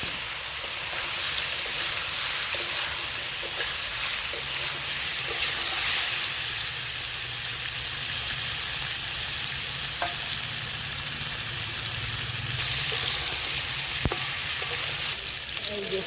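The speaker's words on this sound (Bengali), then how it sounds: "এবারে আমি আমলকিগুলো ঢেলে দিচ্ছি" Indian gooseberries poured into hot oil in a pan for pickle set off a loud, continuous close sizzle and frying hiss, with occasional stirring clinks and faint background voices.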